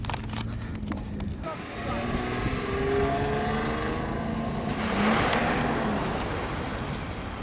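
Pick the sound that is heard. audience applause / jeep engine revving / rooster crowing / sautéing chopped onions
jeep engine revving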